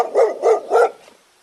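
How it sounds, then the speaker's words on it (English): A dog barks three times in a steady rhythm, close and clear, with each bark spaced about a third of a second apart before quiet falls. "D for dog."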